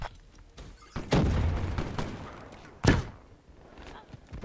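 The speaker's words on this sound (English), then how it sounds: "Grenade" Grenade blast in the Black Ops 3 shooter game, two heavy booming explosions a couple of seconds apart with rumbling decay, mixed with quieter in-game thuds and a voice briefly talking.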